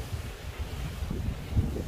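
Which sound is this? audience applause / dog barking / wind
wind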